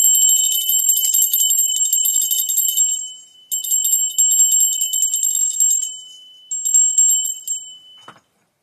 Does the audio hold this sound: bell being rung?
yes